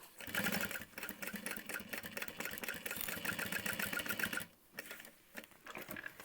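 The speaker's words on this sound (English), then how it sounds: "And I'm just top stitching through the exterior." A sewing machine top stitches through the exterior of an Emma backpack, running in a steady, fast mechanical rattle for about four seconds, then stopping briefly before a few shorter bursts.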